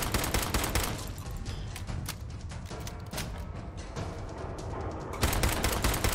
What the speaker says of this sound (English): I am just shooting him with this poor little pistol